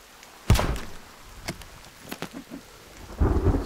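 Rain falls steadily in the video game The Forest while sharp thunder cracks break out repeatedly, with a heavier rumble building toward the end and no voices.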